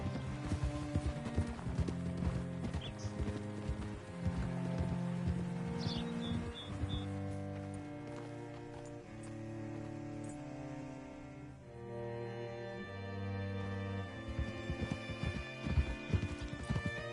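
Horse hooves clip-clop steadily in the video game Red Dead Redemption II beneath a full, continuous orchestral music bed, the hoofbeats fairly faint and partly buried in the score.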